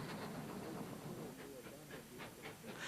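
A steam-hauled train running over a newly rebuilt section of railway line, faint and distant, with hissing steam and rhythmic chuffing bursts under a low rumble.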